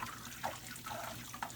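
Butter simmers in a pot while being cooked down into homemade ghee, giving a quiet, steady bubbling hiss with soft pops scattered through it.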